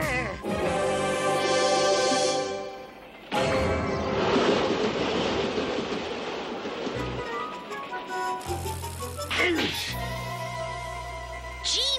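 A moving train in a cartoon rumbles along under music, a steady rushing roar that fades in and out between musical passages.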